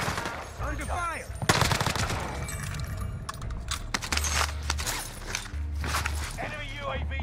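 Rapid automatic gunfire bursts in Call of Duty on Rebirth Island, a firefight with repeated volleys and sharp shots, while a player talks over the fighting.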